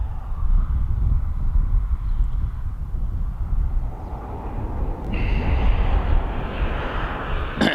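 An airliner on approach into Manchester passing low overhead, a loud continuous roar of jet engines with a rising hiss toward the end, heard outdoors with wind.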